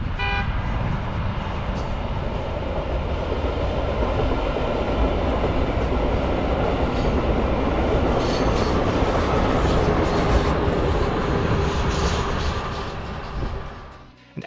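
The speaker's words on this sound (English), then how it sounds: "a Via Rail train streaks by without stopping." A Via Rail passenger train streaks past on Canadian National tracks near Montreal without stopping, a loud sustained roar with rail clatter and a brief horn note at the start, fading quickly at the end.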